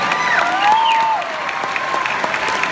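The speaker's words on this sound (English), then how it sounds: "The applause almost lasted till you sit down." A Comic Con panel audience claps in a dense, steady burst of applause that fills the hall, loud and continuous with no clear voices over it.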